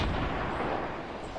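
A rocket blast booms in Fortnite gameplay, a dense, loud rumbling roar that fills the whole moment with broadband crackle and no voices over it.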